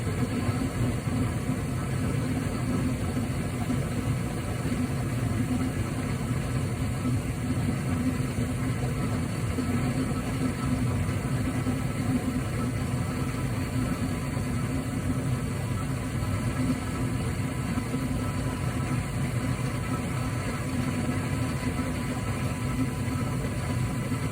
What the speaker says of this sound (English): the gas valve opens, all the burner tubes ignite